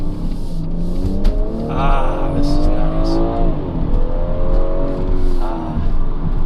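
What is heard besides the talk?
BMW car engine revving while flooring the accelerator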